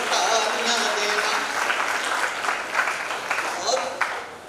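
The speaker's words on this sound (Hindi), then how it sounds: "अगर अच्छी लगी कविता तो खुलकर तालियां देना" An audience claps after a poem at a multilingual poets' meet during an all-India writers' festival, giving a lively, steady round of applause while a voice talks over it.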